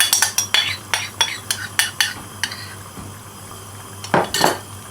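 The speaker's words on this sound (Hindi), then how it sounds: "Mix it well." A spoon repeatedly clinks and scrapes against a metal pot while chicken korma is stirred after water is added, a quick irregular run of sharp knocks followed by a louder scrape near the end, with no talking.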